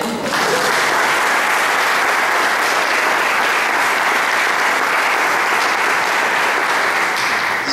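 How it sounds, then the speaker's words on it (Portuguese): A live audience at a celebratory event breaks into sustained, loud applause, a dense wash of clapping that runs steadily from start to finish with no pause. "Ninguém vai aplaudir?"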